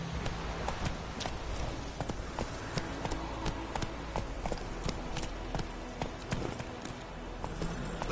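Hooves of Roach the horse pound in a fast, even galloping beat throughout The Witcher 3, near and clear over steady background game sound.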